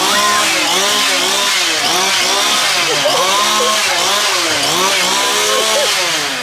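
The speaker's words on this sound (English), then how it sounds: "We got a chainsaw." A chainsaw runs loud and close at a funfair, its engine rising and falling in repeated revving whines, with crowd noise underneath.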